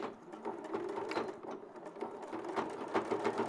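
A sewing machine stitches steadily and close by in a short, continuous run with a rhythmic mechanical whir.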